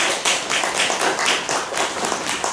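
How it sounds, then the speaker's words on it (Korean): A church congregation claps in welcome during a Sunday worship service, a dense, steady round of many hands clapping, close and lively for the whole stretch. "우리 다시 한번 환영의 박수 보내주시죠."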